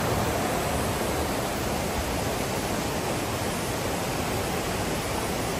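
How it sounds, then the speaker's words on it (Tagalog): Steady, loud rushing of a stream and waterfall at Upper Falls, a continuous broadband roar of falling water with no voices. "Yan yung stream."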